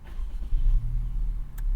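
Idling 1.5-liter turbocharged four-cylinder in a 2025 Honda Civic Si, a steady low engine hum that swells slightly partway through, close and continuous with no talking.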